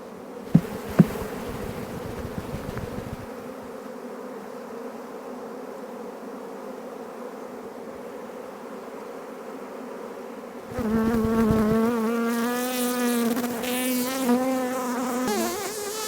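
Bees drone steadily around an open beehive during an inspection, a dense close buzz. A few clicks come near the start, and a louder, higher whine of wingbeats swells toward the end.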